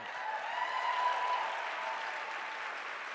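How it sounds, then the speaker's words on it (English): Steady audience applause fills a gala hall, a dense even wash of clapping that swells slightly around the middle and then holds at a constant level, moderately loud with no speech over it. "I want to applaud Kwame right now"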